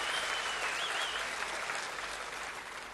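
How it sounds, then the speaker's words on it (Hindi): An audience claps steadily and evenly throughout, welcoming three daughters at a public political event, a dense sustained wave of applause with a faint whistle partway through and no voices on top. "तीनों बेटियों का ताली बजा के स्वागत करें"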